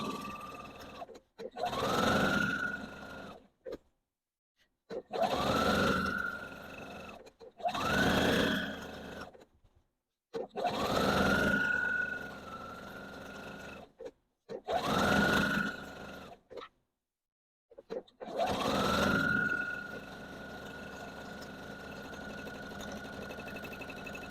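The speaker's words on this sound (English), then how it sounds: "And I'm just going to feed the next one right in. It's called chain sewing." A sewing machine chain-sews Christmas pillow cases with French seams, running in about six loud, steady bursts separated by short pauses while each piece is fed through.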